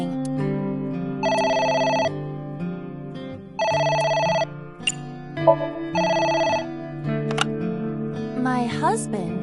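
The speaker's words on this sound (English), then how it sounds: "The phone is ringing." Telephone ringing in Somnium Chloride on PS4, three bright electronic ring bursts spaced evenly over steady game music, with short effects between them.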